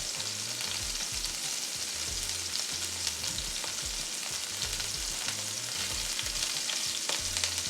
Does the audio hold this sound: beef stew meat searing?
yes